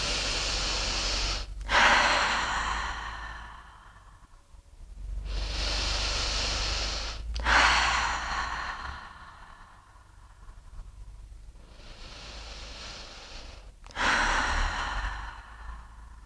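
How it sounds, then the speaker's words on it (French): Three slow, deep breaths drawn in and let out through the nose or mouth during a hip mobility and glute workout, each a long airy inhale and exhale close to the microphone, separated by brief quiet pauses. "On va prendre 3 grandes inspires et 3 grandes expires par le nez ou par la bouche comme vous préférez."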